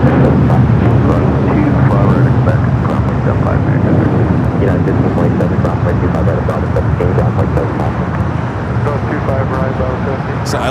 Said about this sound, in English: this one crossing over, coming in from Phoenix in an A321 Neo